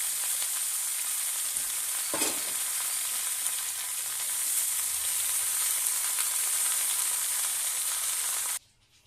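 Steady sizzle of eggplant, pumpkin, flat beans, potato and Malabar spinach seeds frying in oil in a pan, a continuous bright hiss with a brief stir near the start, cutting off abruptly at the end.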